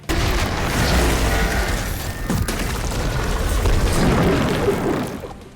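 Heavy booming blasts of mega cannons in Warhammer 40,000 roll on continuously, loud and dense, with a sharper crack midway, like a barrage of game cannon fire.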